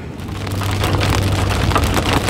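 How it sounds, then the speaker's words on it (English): Big raindrops pelt a vehicle during a drive towing an RV, a dense steady patter of rain on the surface over a low constant engine and road hum, loud and close throughout. "these raindrops are like really big."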